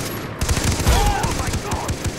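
Gunfire in Far Cry 3 on PS3, a close burst of rapid shots crackling for about two seconds, loud and dense, with faint voice underneath.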